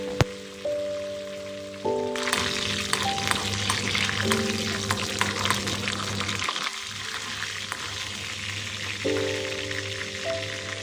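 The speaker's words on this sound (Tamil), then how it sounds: "அதுக்கப்புறம் அந்த எண்ணெய்க்கு நல்லா வெங்காயம் ஒரு 10 போல் போட்டு நல்லா அது அந்த போட்டதும் கொஞ்சம் ஃப்ரை பண்ணி எடுத்துக்கோங்க" Onions fry in hot oil with a soft, steady sizzle that swells after a short pause. A low, sustained tonal hum runs underneath throughout.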